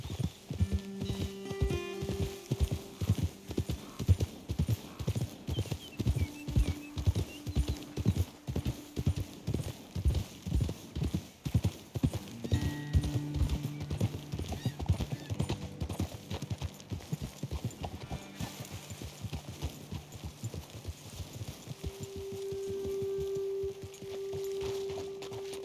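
Horses walk along a trail in Red Dead Redemption 2, hooves clip-clopping in a steady close rhythm that slows and stops, with brief tonal game sounds and a sustained note near the end.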